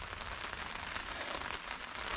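Rain falls steadily outside a VW T2 camper's veranda during wild camping, a dense, even hiss of drops pattering on surfaces close by, with no talk.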